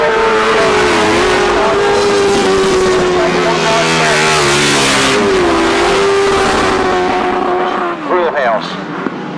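Sidecar grasstrack racing outfits on the last lap at the British Masters roar past loudly and steadily, their high engine whine shifting pitch as they pass, with a commentator talking over the noise.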